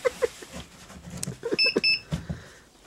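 A few sharp electronic beeps from a campervan power supply unit sound amid clicks and handling noise, a couple of high tones repeating close by in a quiet room.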